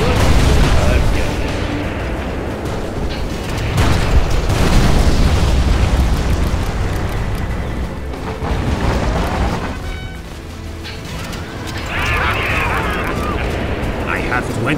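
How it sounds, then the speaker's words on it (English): Artillery fire and booming explosions from C&C Generals roll on heavily and continuously, a dense low rumble with periodic blasts under speaking voices and game chatter. "Advanced artillery right here."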